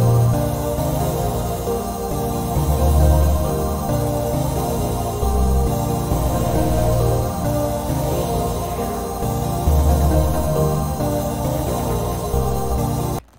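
An ethereal hip hop beat plays continuously, with a deep bass line under a hazy, shimmering melody. It stays loud and steady throughout and cuts off abruptly at the end.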